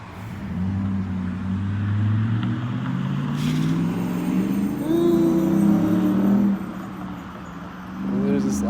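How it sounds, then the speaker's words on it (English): A red car's engine rumbling and revving up nearby, a steady low drone that swells and climbs in pitch, with a voice talking faintly at times. "Loud engine sound right after."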